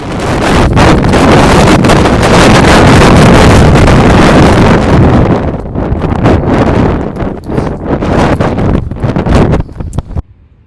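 Strong wind on a desert mountain top roars and buffets the microphone in heavy gusts, loud and close, easing into choppier bursts before dropping away at the end.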